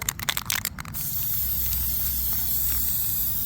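An aerosol spray can hisses steadily while coating a rusted brake rotor from a 2014 Cadillac ATS, following a few short bursts at the start, close and constant with no talking.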